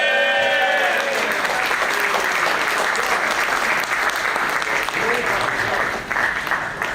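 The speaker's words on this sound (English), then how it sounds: "Let's give one warm round of applause for our volunteer auxiliary" A crowd gives sustained, loud applause for a volunteer auxiliary at a police promotion ceremony, steady dense clapping filling the whole stretch with faint voices underneath.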